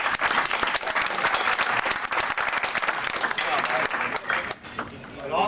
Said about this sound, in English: I would like to give a round of applause to Bob Matson, who arranged the meals here